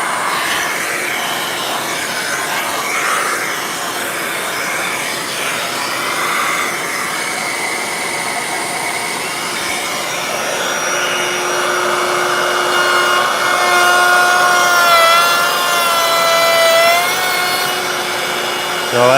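A Dewalt router cutting wood with its dust collector pulling strong suction makes a loud, steady whine and rushing roar, with tonal shifts as the bit works the wood and a faint voice under the noise.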